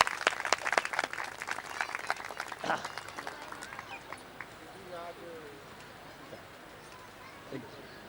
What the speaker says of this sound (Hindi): सब लोग जोरदार तालियों से